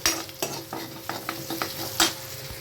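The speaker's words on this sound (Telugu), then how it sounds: "కొన్ని పాటు ఇంకా క్యారెట్లు ఫ్రై చేసుకోవాలి" Carrots stir-fry in a pan, with a steady sizzle broken by repeated scraping stirs of a utensil at an uneven rhythm, close and moderately loud, no voices.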